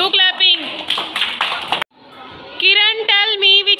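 A class of second-grade schoolchildren clapping together at a school, bursts of rapid group applause mixed with children's voices and chatter, briefly breaking off before resuming loudly.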